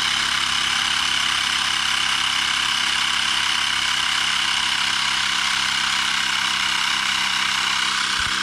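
A Xiaomi electric air pump runs continuously and steadily while inflating an M365 Pro 2 scooter tire, a loud, even mechanical drone close by with no talking.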